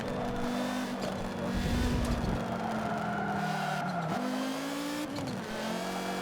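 Race car engine in Forza Motorsport 7 drones steadily at high revs, pitch rising and dipping through gear shifts as the faster car laps a fairly long track, loud and continuous with a brief tire squeal.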